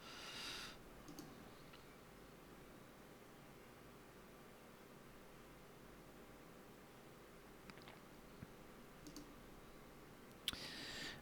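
Faint, sparse computer mouse clicks come from someone working through a hard New York Times Sudoku. A few isolated taps stand out over a quiet hiss of room noise.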